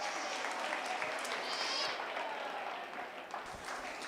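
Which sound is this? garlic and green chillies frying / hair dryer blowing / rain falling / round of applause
round of applause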